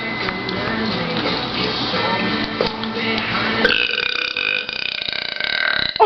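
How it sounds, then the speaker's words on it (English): Repeated loud burping from people, one long drawn-out belch after another, close to the microphone with a continuous croaking, gurgling tone. "I can't burp if I'm laughing."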